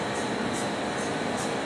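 Components of a high vacuum coater run inside the cabinet beneath it with a steady mechanical hum and whir, plus a faint repeating hiss pulsing about every 0.4 seconds.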